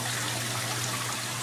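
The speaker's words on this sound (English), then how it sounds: "I wanted to show you the water in motion in front of our filter mat coming into our pump chamber, returning the water back up to our Colorfalls" Water pouring from an Atlantic Colorfalls into a pump chamber in front of a filter mat, a continuous close splashing flow with a steady low hum beneath.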